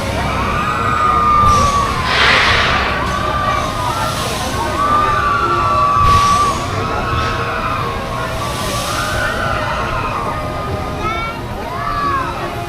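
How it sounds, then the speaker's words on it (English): Riders scream on the Voyage wooden roller coaster at Holiday World at night, with rising and falling wails heard at a distance over steady rushing background noise. "they were kind of screaming pretty loud."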